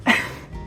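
A single short, sharp sneeze bursts out at close range, briefly and loudly, then fades into quiet room tone.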